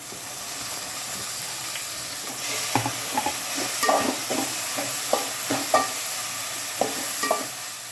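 Two chopped tomatoes tossed into a pan of cooked onions fry with a steady sizzle and hiss, broken by scattered scraping stirs and clinks from a spoon, close and moderately loud.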